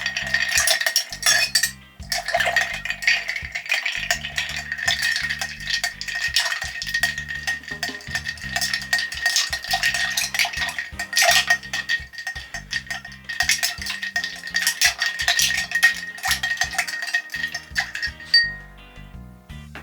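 A spoon clinks and rattles steadily against ice cubes in a glass while a dry martini is stirred, a close, continuous jingle that runs for nearly twenty seconds.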